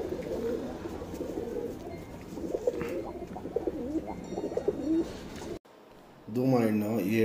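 Tournament racing pigeons coo in a loft, soft repeated throaty calls near the listener, overlapped by someone talking, then a short gap before a clearer burst of cooing at the end.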